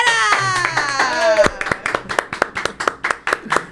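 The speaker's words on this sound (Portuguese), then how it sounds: "Uma salva de palmas para o Barreira!" Rhythmic, steady clapping for a talk-show guest, fairly loud and close, beginning right after a brief stretch of voice with a background tone.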